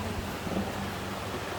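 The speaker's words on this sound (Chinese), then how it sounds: "听到潺潺流水的声音" A stream flows beside an outdoor forest café in Sanxia. The water makes a soft, steady, even rush throughout, faint and unbroken, with no voices.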